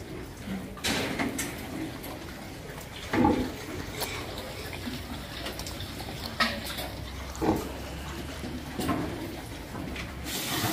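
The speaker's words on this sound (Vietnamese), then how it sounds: "Heo của mình được 5 ngày nè." Five-day-old piglets grunt in scattered short bursts at close range over a rustling, clattering pen background, with no voices.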